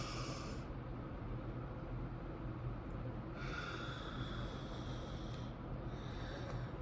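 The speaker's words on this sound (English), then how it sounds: "we're going to breathe in and breathe out" A person breathes slowly in and out, long airy inhales and exhales alternating in a steady rhythm, close and fairly loud, with no talking.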